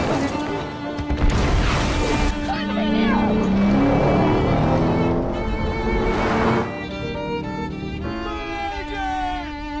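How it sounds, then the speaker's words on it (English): A loud, busy car chase scene from Fast Five with roaring engines, crashes and impacts, voices shouting over the chaos, then music-like tones near the end. "Car chases make movies better."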